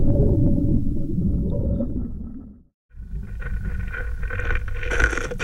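Wind blowing over salt formations and needles embedded in the salt in Death Valley, picked up by piezo contact mics: a low, droning rumble with metallic resonant tones that drops out to near silence briefly, then returns with brighter, scratchy, ringing textures.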